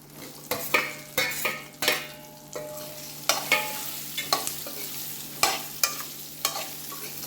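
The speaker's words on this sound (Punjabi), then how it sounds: "ਹੁਣ ਆਪਾਂ ਇਹਦੇ ਵਿੱਚ ਪਾ ਦਿੰਨੇ ਆਲੂ" Potatoes frying and being stirred in a pan on a gas stove while cooking bhindi (okra) sabzi, with repeated scrapes and clinks of a spatula over a steady low sizzle, fairly close.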